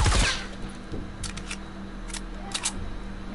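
Sharp, bright gunshots in Fortnite Save the World, a few spaced single cracks including a quick pair near the end, each short and fairly loud over a quiet game backdrop, with no talking.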